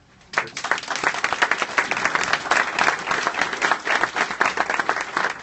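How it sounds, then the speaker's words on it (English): Loud, sustained applause from a crowd at a NICU ribbon cutting, dense clapping that starts abruptly and continues steadily for several seconds. "I think our new NICU staff should get an applause"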